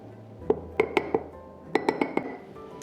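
A spoon taps and tamps cookie ingredients layered in a glass jar, giving two clusters of sharp, ringing glass clinks, about four each, close and clear with no talking.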